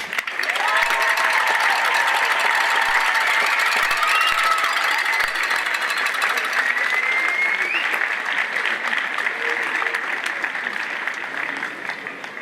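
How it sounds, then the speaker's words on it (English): Graduating students and the audience at a 2018 high school graduation ceremony applaud their parents, a loud, continuous crowd clapping that stays strong throughout with a few faint voices and cheers beneath it. "Graduates, let's offer our parents another big round of applause."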